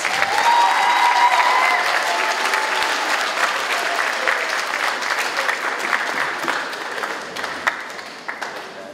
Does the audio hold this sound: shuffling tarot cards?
no